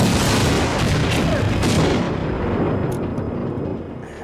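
A train robbery film scene erupts in a loud explosion, a dense roaring blast with crackling debris that slowly fades over several seconds.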